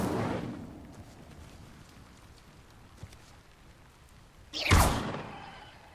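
An Incendio fire spell in Hogwarts Legacy bursts near the end as a sudden loud whoosh and roar that quickly fades, following a quiet rumbling game ambience.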